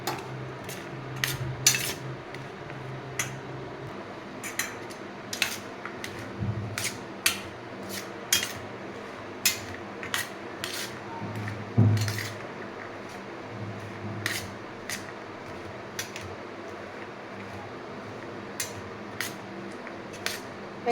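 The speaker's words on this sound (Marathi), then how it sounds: "हे सर्व मिक्स करून घ्यायचं" Chana chaat ingredients (chickpeas, onion, tomato, coriander, lemon) stirred together in a bowl with a spoon, giving a steady run of close, sharp metallic clinks and scrapes with no one talking.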